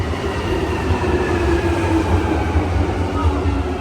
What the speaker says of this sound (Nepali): ट्रेन आयो हेरौँ है कतिको खुल्छ